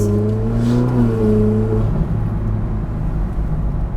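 Deep, throaty Ferrari 458 Speciale exhaust rumbling close by, a rising engine tone easing off into a lower idle burble.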